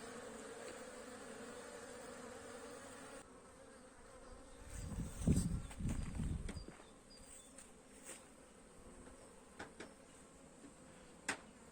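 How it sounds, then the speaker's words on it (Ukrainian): Honeybees buzz in a steady drone in winter, with a louder low rumble partway through and a few faint clicks toward the end. "Здається таке враження, що бджоли літають на роботу."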